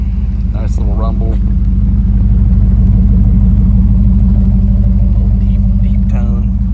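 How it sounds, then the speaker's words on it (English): A 1989 Chevy Camaro IROC-Z V8 with a MagnaFlow exhaust idles deep and steady with a low throbbing exhaust rumble, close and continuous, while someone talks over it. "MagnaFlow exhaust on here. It sounds good. Nice little rumble."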